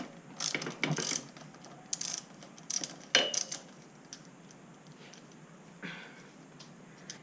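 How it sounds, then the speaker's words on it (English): Wrench ratcheting on a BMX crank spindle bolt during bottom bracket work, irregular bursts of clicking pawl strokes up close, with quieter gaps and a final short burst. "So now I'll be removing the spindle bolt which holds the crank on the axle"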